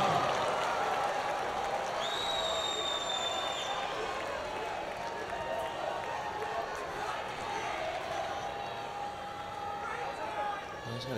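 Large US Open tennis crowd during a five-set comeback between del Potro and Thiem, producing a dense, steady roar of applause and cheering that holds loud for about eleven seconds, with commentary voices over it.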